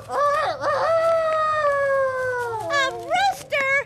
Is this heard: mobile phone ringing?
no